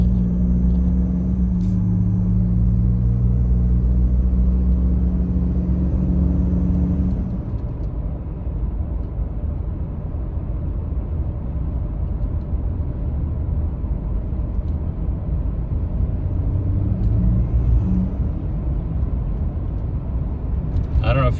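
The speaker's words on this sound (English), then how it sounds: "I'm going to accelerate the truck. This is an F-150 EcoBoost." A Ford F-150 with the 3.5L EcoBoost engine, carrying a catalyst efficiency fault, accelerates with a steady low engine rumble and drone heard from inside the cab. The engine is louder for the first seven seconds, then settles into quieter road noise.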